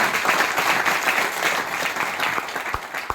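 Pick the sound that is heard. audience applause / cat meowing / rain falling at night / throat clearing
audience applause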